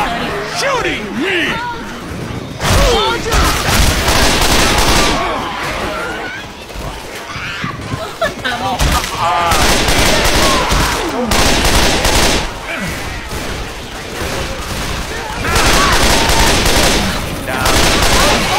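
Heavy gunfire in a shooting video game: dense bursts of automatic fire and rapid shots, loud and near, with players shouting over the din.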